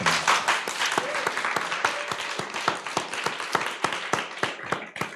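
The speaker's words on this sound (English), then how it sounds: "let's give you a huge round of applause" An audience at the English Theater Berlin gives a round of applause after a conversation event. Loud, close clapping with distinct sharp claps runs steadily throughout and tapers slightly at the end.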